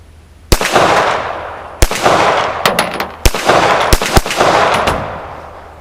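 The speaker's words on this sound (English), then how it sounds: "Rapid fire." A GI M1911A1 .45 ACP pistol fires in quick succession, about eight loud sharp shots with echoing tails in an uneven rapid rhythm outdoors.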